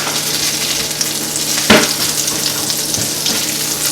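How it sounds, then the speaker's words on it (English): Turkey meatballs brown in a skillet with a steady, close sizzle and crackle and a brief louder spatter partway through; no voices. "I have the meatballs that I have browning, the turkey meatballs."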